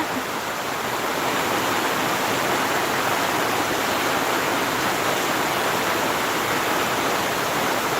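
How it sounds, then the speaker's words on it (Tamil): Heavy rain pours down in a dense, continuous hiss, loud and unbroken from start to finish, with no voices. "சரியான மழைங்க"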